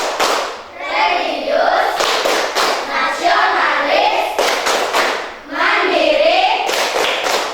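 A group claps hands together in a rhythmic pattern, loud and close, interleaved with chanted voices.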